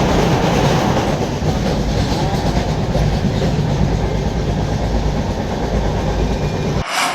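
Express train running on rails between Trichy and Howrah, a loud, steady rumble of wheels with faint clickety-clack throughout, cutting off abruptly near the end.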